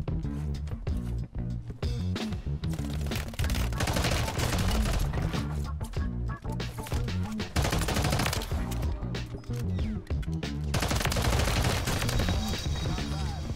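A Core 45 SMG fitted with a conversion kit firing in Warzone 3, with loud continuous rapid bursts of automatic fire and brief gaps between them, dense and close, with no talking.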